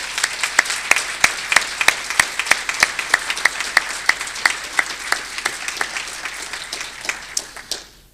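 Audience applause for award recipients at a university Hall of Fame ceremony, a steady wash of many hands clapping with sharp individual claps standing out, fading at the very end.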